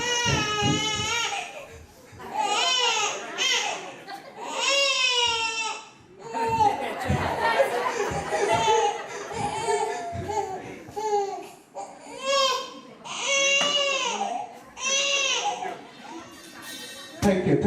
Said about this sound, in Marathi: अरे रडायला लागलं बा, रडायला लागलं.